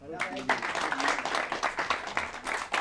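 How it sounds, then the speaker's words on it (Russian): An audience claps together at a memorial evening, a steady dense patter that starts after a brief bit of speech and keeps going to the end, with voices faintly mixed in. "Давайте аплодисментами"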